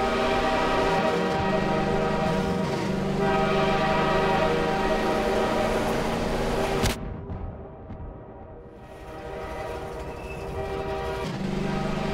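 A video game train rumbles past with a long horn blast, cutting out abruptly partway through before the rolling mechanical noise returns more quietly.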